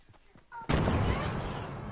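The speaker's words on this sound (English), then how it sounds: "I'm gonna kill him with my pistol" Pistol gunshots in a video game: a sudden loud blast about two-thirds of a second in, followed by sustained dense gunfire-like noise that stays loud to the end.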